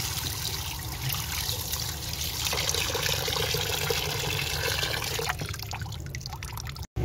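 Water runs steadily from a tap as meat and potatoes are rinsed in a home kitchen, a continuous close trickling and splashing that carries on unbroken, with a brief dropout near the end.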